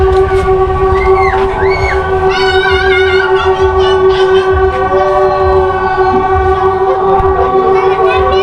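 PNR passenger train rolling past with a loud, steady rumble and rail clatter, its horn sounding in long sustained blasts over the whole stretch, close and continuous.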